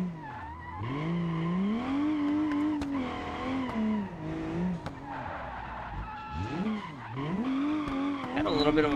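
A car drifting on a karting track with cones squeals its tires in long sustained skids, the pitch sliding up and down through transitions, loud and close with the engine droning beneath.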